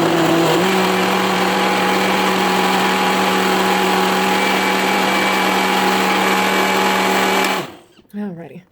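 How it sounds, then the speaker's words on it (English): A countertop blender whirs steadily through smoothie fruit, a loud close motor drone with a slight pitch shift near the start, running continuously for over seven seconds before cutting off abruptly. "Now, let's blend again."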